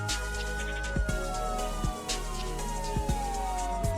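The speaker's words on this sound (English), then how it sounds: "a police siren cut through the air, every immigrant's nightmare. The wail grew louder" A police car siren wails steadily and loudly on a Nigerian roadside stop, its pitch slowly sliding downward over a constant low hum, with a few brief thumps breaking through.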